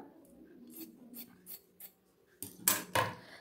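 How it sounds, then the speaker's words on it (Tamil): Scissors snip through a doubled cloth collar for a churidar in a series of quiet, separate crisp cuts, the last few louder and closer. "இந்த ரெட்டையாக இருக்கிற கிளாத்தை தனித்தனியாக இந்த ஜாயிண்டை கட் பண்ணி எடுத்துக்கலாம்"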